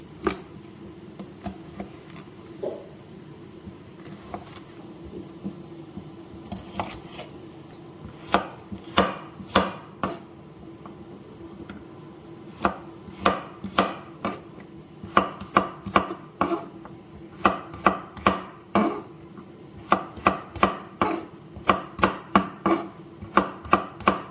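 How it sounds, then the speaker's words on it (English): A knife chops carrots on a cutting board in a home kitchen. The strikes are crisp and close, sparse at first, then quicker and steadier in runs of rapid taps, with no talk. "Taking your carrots, cut them into whatever shape you prefer."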